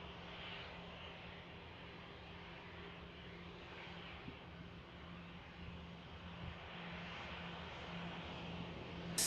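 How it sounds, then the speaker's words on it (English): Airliner arriving from Oslo at Manchester Airport, heard as a steady, distant engine roar that holds at an even low level throughout, with no talk. "The aircraft I mentioned from Oslo."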